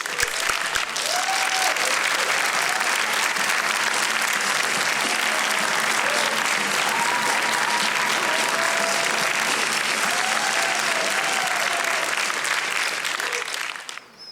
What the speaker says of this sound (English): Let's now have another huge round of applause for all of our 2015 Hero Awards.